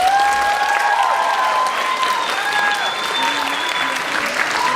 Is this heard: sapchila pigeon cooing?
no